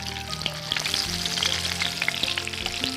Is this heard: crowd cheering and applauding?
no